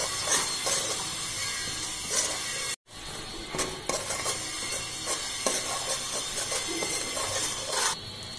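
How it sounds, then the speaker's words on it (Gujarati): Semolina roasting in a pan over low heat, stirred steadily with a spoon that scrapes and taps the metal, under a soft, continuous dry hiss, with a brief gap partway through. "સાવ ધીમો ગેસ રાખીને જ આપણે રવો શેકવાનો છે."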